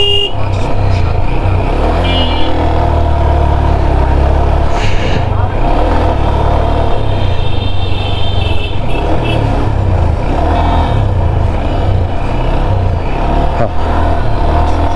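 Busy traffic on the Dhaka-Natore highway in Bangladesh: cars and trucks roar past at close range with repeated horn toots and engine revving, loud and continuous, with a voice talking over it.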